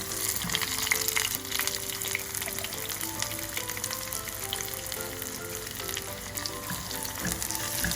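Onion and white cumin seeds frying in hot oil, a steady dense sizzle with bubbling crackle running throughout without pause, close and fairly loud, with occasional stirring scrapes.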